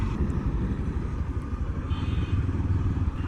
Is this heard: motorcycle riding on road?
yes